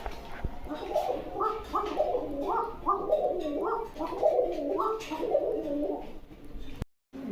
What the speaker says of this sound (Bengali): ওই যে ডাক ধরলে মাশাল্লাহ খুব সুন্দর ডাকে